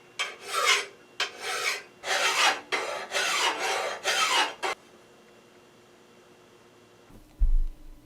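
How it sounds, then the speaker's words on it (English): Steel file rasping along a steel Roman gladius blade during stock-removal shaping, with about seven steady back-and-forth strokes close up, then quiet with a faint hum and a short thump at the end. "I marked out the problem areas and filed until the ink went away"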